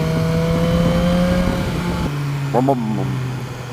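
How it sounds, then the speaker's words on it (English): A BMW S1000R motorcycle runs with its exhaust droning loud and steady, the engine pitch holding then shifting midway, while someone talks over it. "Listen to the exhaust."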